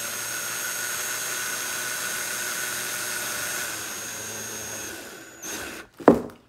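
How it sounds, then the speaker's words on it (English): A power driver turning screws into a cargo-area light in a 2016 Ford Explorer, a long steady motor whir, then a short stop and a sharp closing burst as the screw seats. "Now we're putting the screws in."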